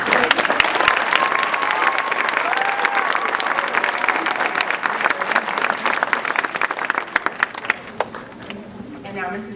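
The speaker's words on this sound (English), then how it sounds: "We'd like to give them another round of applause, please." Sustained applause for award recipients at a school awards ceremony, dense clapping from a crowd that gradually thins and tapers off near the end.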